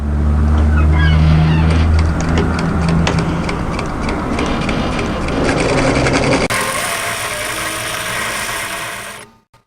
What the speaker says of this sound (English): I'm going to sew a line of parallel stitching closest to the fold line